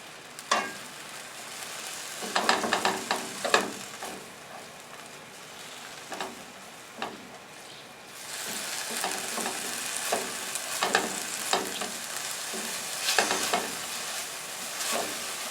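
Mango pieces fry and glaze in a pan with sugar, a steady close sizzle punctuated by repeated scraping stirs, the sizzle swelling louder partway through, with no talking.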